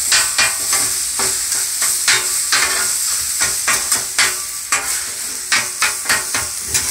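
Breakfast burrito ingredients fry on a Blackstone griddle with a steady close sizzle, broken by regular sharp scrapes and taps of a spatula stirring the food, with no talking.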